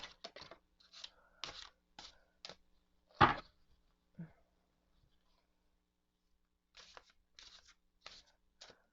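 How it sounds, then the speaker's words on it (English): Stiff tarot cards are shuffled in short bursts of riffling and sliding, close by, with one sharper slap in between and pauses of near silence. "you could always shuffle them like this"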